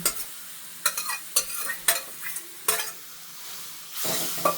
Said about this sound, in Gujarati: આવી રીતે આપણે એને રગડાનો હળદર નાખીને જ વઘાર કરી લેવાનો છે